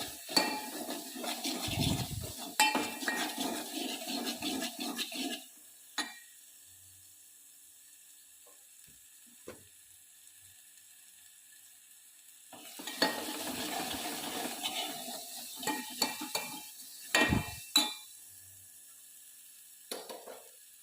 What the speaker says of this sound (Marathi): हे वाटण आपण तेलात टाकून चांगलं भाजून घेत आहोत।